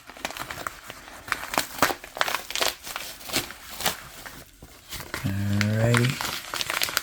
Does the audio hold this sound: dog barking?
no